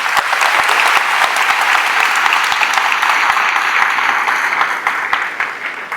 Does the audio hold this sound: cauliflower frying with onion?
no